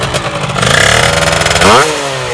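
A Derby Senda 50cc motorcycle engine fitted with an 80cc kit sputters, then revs up with a rising whine, drops briefly and climbs again, loud and close.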